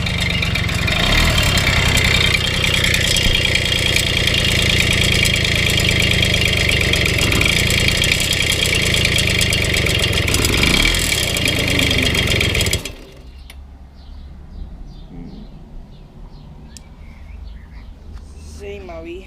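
A Babeta 210 moped engine, which may be idling low, runs loud and steady close by, then cuts off abruptly, leaving quiet background with birds chirping and someone speaking.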